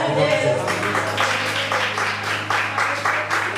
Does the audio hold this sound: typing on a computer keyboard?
no